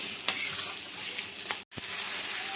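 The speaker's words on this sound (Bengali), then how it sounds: "টমেটোটা দিয়েও আমি ভালোভাবে মশলার সঙ্গে কষাতে থাকবো" Spice masala with tomato being sautéed for mutton kosa: a constant bright sizzle with occasional spoon knocks, briefly cut silent for an instant midway, no voices.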